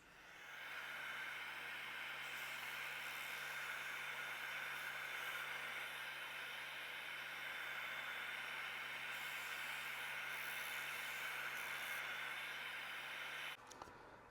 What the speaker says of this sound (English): now I can put it in the Jim Barnes sander and gently take it down